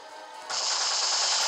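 Gunfire in the Resident Evil Revelations video game: after a quieter moment, a sudden loud, harsh burst of shots begins and carries on as a sustained noisy blast.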